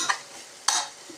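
Tomatoes and onions being sautéed and stirred in a pan for veg biryani, two quick scraping stirs over a soft frying sizzle, close and brief.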